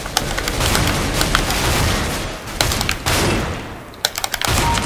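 Shotgun fire in Counter-Strike: Global Offensive during an Arms Race match, several loud blasts spaced a second or so apart among dense rattling gunfire and clicks of game action.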